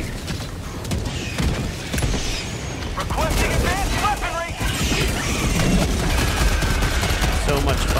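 A rocket sentry turret firing in Helldivers 2, launches and blasts repeating amid loud battle noise, mechanical clanks and creaks, and scattered voices.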